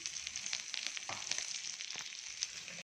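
A paste of green chili, mint, coriander, garlic and ginger hisses and sizzles steadily in a hot pan, a bright continuous frying crackle with small pops, close and alone, cutting off abruptly.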